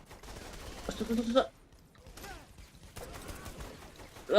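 Gunfire in the video game Saints Row The Third, a brief crackling burst of shots near the start, a short lull, then further sharp bursts and a loud hit at the end, with game effects mixed in.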